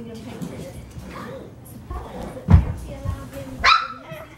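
Young F1B petite Labradoodle puppy giving a couple of sharp barks and yips, with a loud one midway and another near the end, amid household noise and a person talking.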